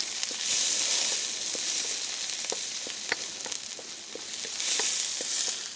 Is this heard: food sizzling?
yes